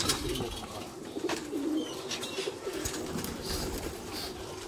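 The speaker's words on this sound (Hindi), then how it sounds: "ए जी कबूतर" Kamagar breed pigeons coo in low, throaty rolling calls that repeat through the whole stretch, close by over a steady background hiss, with no talking.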